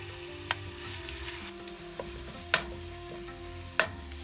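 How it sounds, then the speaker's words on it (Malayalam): Crushed onion, garlic and ginger sauté in coconut oil for egg biryani, a soft steady sizzle broken by a few sharp spatula taps on the pan, close and without talk. "ആദ്യം വഴറ്റുന്നത് ഉള്ളിയും വെളുത്തുള്ളിയും ഇഞ്ചിയും ചതച്ചതാണ്."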